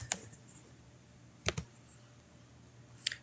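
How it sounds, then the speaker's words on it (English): A few sharp keystrokes on a computer keyboard while entering a city name, isolated clicks spaced over a second apart against a quiet room hum, no talking. "you're just going to type your next city in"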